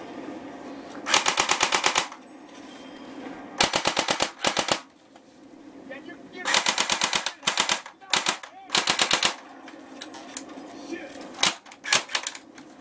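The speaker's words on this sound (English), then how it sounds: "Oh, fully auto." Airsoft AK47 firing fully automatic in several rapid, rattling bursts separated by short pauses, loud and close, with someone speaking quietly between the bursts.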